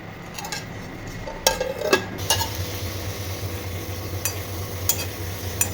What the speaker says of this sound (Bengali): তো দেখো ত্রিকোণ লুচি ভেজে নিচ্ছি। একটুখানি ঘি দিয়েছি আর ওই কোল্ড প্রেস তেল দিয়েছি।